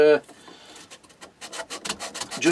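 Short, rhythmic rasping strokes of a small sanding block rubbing across scrap wood, close up, repeating steadily after a brief voice at the start.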